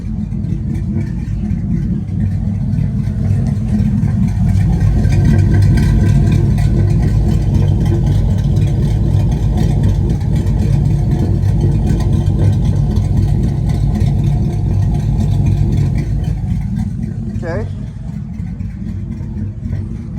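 A Chevrolet Silverado V8 with a ghost cam tune idles loudly and steadily up close, its low rumble carrying a rhythmic lumpy chop that continues without a break, with no talking over it.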